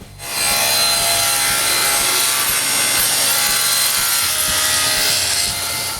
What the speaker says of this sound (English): After cutting a piece of Baltic birch plywood a little wider than the sliding table, I cut the bottom runners.